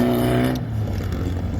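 An off-road race car in the NORRA Mexican 1000 pulls away with a short, loud engine drone that drops off sharply partway through the brief burst, leaving a rougher rumble.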